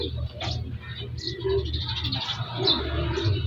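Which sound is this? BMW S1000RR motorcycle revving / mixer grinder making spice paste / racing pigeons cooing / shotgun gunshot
racing pigeons cooing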